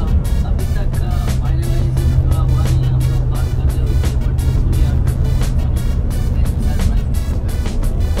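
Continuous loud engine rumble and road noise inside the Indian cricket team's bus travelling to Southampton for a World Cup match, steady throughout with faint chatter in the cabin.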